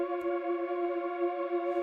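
Two Diva synth pads panned together to the center hold one steady, chorused, effect-laden chord for a short moment, with no talking.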